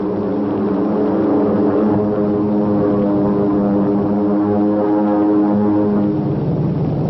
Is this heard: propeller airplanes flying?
yes